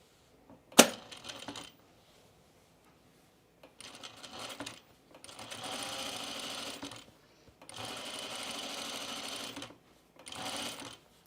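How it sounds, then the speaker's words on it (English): Sewing machine top stitching crinkle cotton for a 1930s-style blouse: a sharp click, then several bursts of steady mechanical whirring, each lasting a second or two, with brief silent gaps between runs. "I'm going to also top stitch this little mid piece here."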